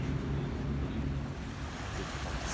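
Water laps steadily along a tidal river in London that joins the sea, a continuous soft wash with some wind noise and no talk.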